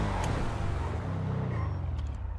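Nissan 300ZX sports car engine running steadily and loud up close, a continuous low rumble with no speech over it.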